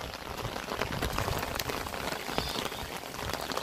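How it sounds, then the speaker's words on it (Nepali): Winter rain falls steadily, a continuous close patter of drops on surfaces with no pauses, moderately loud and alone. "अहिले जाडोमा फेरि वर्षा सुरु भएछ"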